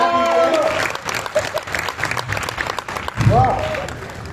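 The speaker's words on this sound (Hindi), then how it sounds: "जरा ताली वाली बजा दीजिए।" An audience at a Hindi comedy poetry gathering claps in a loud, dense burst of applause that fades and then swells again, with a voice and crowd noise mixed in.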